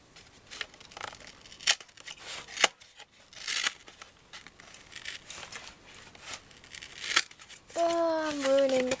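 Perrier sparkling water packaging crinkles and tears in scattered sharp bursts of rustling paper and plastic, close and intermittent, with a short stretch of talk near the end.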